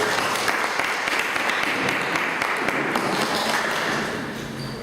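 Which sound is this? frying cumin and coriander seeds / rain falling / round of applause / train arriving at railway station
round of applause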